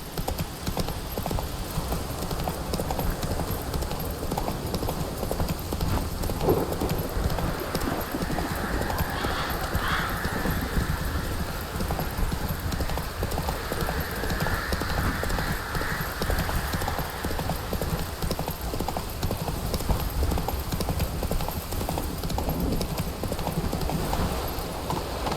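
Roach the horse galloping in The Witcher 3, a continuous rapid clip-clop of hooves close by across the whole stretch, with a brief whinny and faint game ambience beneath.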